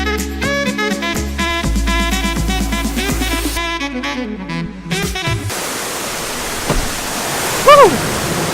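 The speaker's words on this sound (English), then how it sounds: "We found the waterfall." A big waterfall on a spring break outing roars as a steady, loud rush of water. Music plays before the roar takes over, and a short shout rises above the water near the end.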